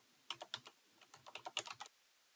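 Close, crisp computer keyboard typing as a name is entered: a rapid run of about fifteen distinct keystrokes in two short bursts, then silence, with no talk.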